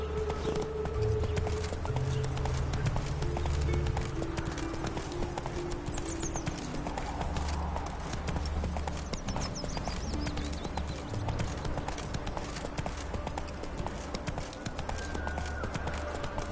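Geralt's horse Roach trots in The Witcher 3: Hearts of Stone, its hooves clip-clopping steadily and close throughout over a low game ambience.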